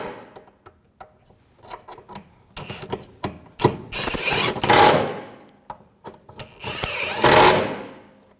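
Hand ratchet tightening bolts on a rear control arm of a 2007-2013 BMW 328i, close rapid clicking in bursts of quick pawl ticks with pauses between strokes.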